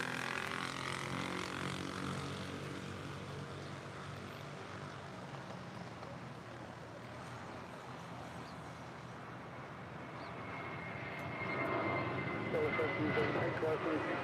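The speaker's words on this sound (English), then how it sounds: "That is Spirit Airlines 1073 departing to Nashville, Tennessee on an A320." Spirit Airlines A320 departing LAX for Nashville, a broad engine roar under conversation that fades slightly mid-way and then swells louder near the end.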